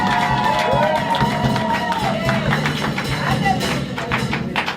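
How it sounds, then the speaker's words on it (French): A church congregation claps and cheers for Jesus at an evangelist's consecration service in Australia, a dense, continuous roar of crowd noise with scattered voices and whoops throughout. "Clap for Jesus."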